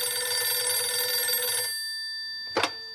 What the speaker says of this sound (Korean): 경찰국장 사무실 전화벨이 울렸다